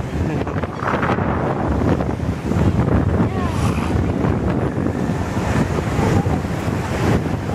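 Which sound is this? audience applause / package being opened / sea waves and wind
sea waves and wind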